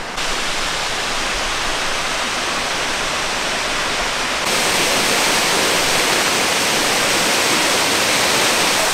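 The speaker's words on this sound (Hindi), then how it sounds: "so we are just behind the Y Dong waterfall" Wei Dong waterfall in Meghalaya, India, roars as a steady, dense rush of falling water heard from close behind the falls, unbroken and loud throughout with no voices.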